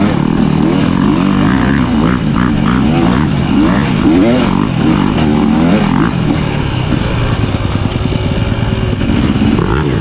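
A 2023 KTM 300XC TBI two-stroke dirt bike ridden on a trail at Crow Canyon, its engine loud and close throughout, revving up and down continuously with shifting pitch and no pauses.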